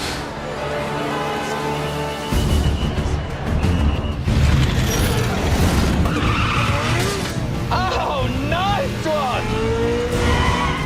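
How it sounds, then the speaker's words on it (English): A Ferrari drives through Times Square on 6th Avenue during a film shoot, engine rumbling and tires squealing loudly amid city clatter, with people talking and shouting over the din. "I got to drive a Ferrari through Times Square"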